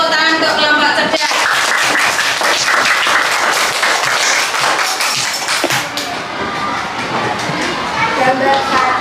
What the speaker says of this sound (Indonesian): Beri tepuk tangan untuk kelompok cerdas.